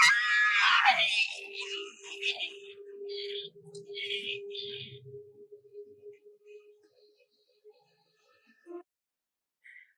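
A woman lets out a loud, high scream in a staged zombie attack scene. It fades into scattered shouts and rustling, then a long low hum and near silence with a few faint clicks.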